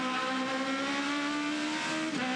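Aussie Racing Cars with 125-horsepower engines racing at Bathurst, a loud sustained engine drone holding a steady pitch with a brief dip near the end, no voices.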